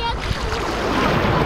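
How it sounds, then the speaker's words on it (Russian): Ocean surf washes steadily onto a beach in Unawatuna in Asia, a loud, broad rushing roar of waves with wind noise and no distinct breaks. "Как вам океан?"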